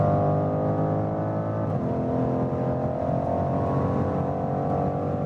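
A 2019 BMW M550i (G30) sends a steady, droning engine and exhaust note into the cabin while driving, with a brief dip in pitch partway through like a gear change, then a settled hum.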